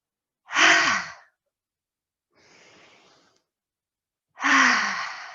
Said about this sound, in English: on the exhale, you can exhale through the mouth